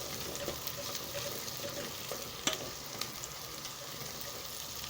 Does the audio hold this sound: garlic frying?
yes